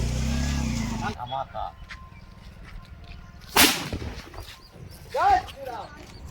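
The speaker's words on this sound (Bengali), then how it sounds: "দেখো কিভাবে বমটা ফাটানো হচ্ছে" A firecracker bomb bursts at a Bhim puja gathering, one sharp loud blast standing out over crowd chatter and voices, followed by more talk.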